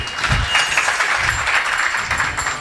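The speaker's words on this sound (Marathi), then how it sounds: "म्हणजे या टाळ्या दोन्ही अर्थी असतात बरं का." Audience applause at a Marathi kirtan, a sustained wash of many hands clapping at a fairly loud level, joined by low thumps near the start and again midway.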